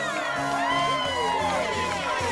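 A party crowd at a bar mitzvah cheers and whoops for the DJ, a loud, continuous mass of voices with music underneath and no single voice standing out.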